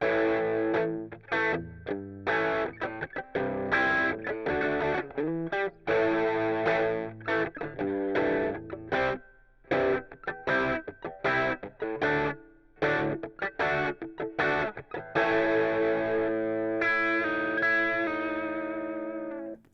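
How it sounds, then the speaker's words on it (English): Distorted electric guitar plays choppy, heavily muted chords with short accented stabs and gaps, steady rhythm throughout, no voices. "I'm playing the chord, but then I'm going to mute it a lot."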